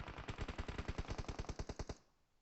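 A rapid burst of automatic gunfire from a PUBG Mobile fight, about sixteen evenly spaced shots in under two seconds, loud and close, ending abruptly into a brief fading tail with no voices.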